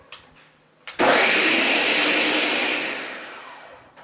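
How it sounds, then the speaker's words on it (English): A blender at medium power purees beans with fresh herb leaves, starting abruptly after a brief quiet moment and running loud and steady, then easing slightly toward the end, with no talking. "And you'll blend it at about a medium power."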